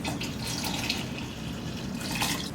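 Liquid pours into a pot of chicken and gnocchi soup, a close, steady splashing rush with a few louder gurgles, continuous and unaccompanied by talk.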